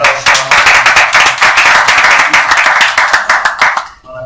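A church congregation claps loudly and briskly, a dense burst of applause that holds for about four seconds before quickly fading out.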